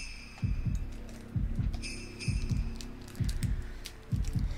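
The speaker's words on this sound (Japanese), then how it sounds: "心臓の音が鳴り止まねえぜ。" A heartbeat in the Japanese horror video game Shadow Corridor thumps in steady, loud double beats about once a second, heard alone over a faint high ambient tone.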